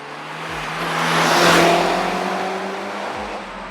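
A 2002 Audi S3's turbocharged 1.8 four-cylinder engine, with a downpipe and APR Stage 2 tune, revving up and easing back, swelling in loudness toward the middle before settling, heard alone without voices.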